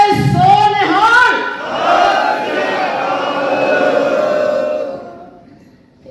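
Sikh congregation in a hall shouting the jaikara battle cry, a leader's call followed by a loud, sustained crowd roar that swells and slowly fades.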